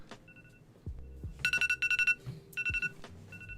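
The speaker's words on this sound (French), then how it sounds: "Elle est angoissante cette sonnerie. Elle m'a rappelle mon réveil" An alarm-style ringtone sounds as clusters of rapid, bright beeps, with two loud bursts and a quieter return, over faint background noise.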